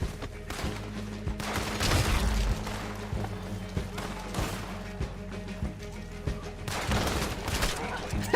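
Repeated gunfire in a Red Dead Online shootout, sharp cracks in irregular bursts and volleys over a constant low rumble, with scattered louder shots and a voice speaking between them.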